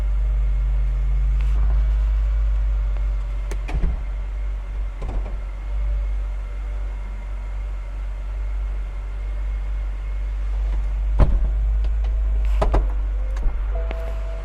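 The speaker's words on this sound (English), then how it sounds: "use the switch, and we are going to retract the hardtop." Motorized whir of a 2011 BMW 328i convertible's power hardtop retracting, a steady low mechanical drone running throughout with several sharp clunks and latch clicks as the roof panels fold and lock, close and without talk.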